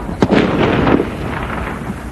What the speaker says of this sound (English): the sound of gunfire from enemy snipers crackled